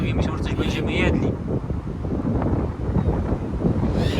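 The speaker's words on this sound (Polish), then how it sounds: "tylko że akurat wiatr wieje z południa" Strong southerly wind at a lakeside camper parking spot in wild Sweden buffets the microphone in low rumbling gusts, with brief voices and bird-like chirps at the start and end.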